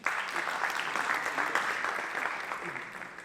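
Sustained applause from an audience at a ghazal album launch, steady and dense throughout, with no voices rising above it.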